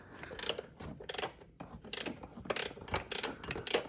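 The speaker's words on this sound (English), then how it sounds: "we're going to be removing the mag side top side motor mount with a 13 millimeter wrench" A 13 mm wrench works loose the top motor mount on the mag side of a VR1 boost build, sounding as close, rapid ratcheting clicks in several uneven bursts with short pauses between.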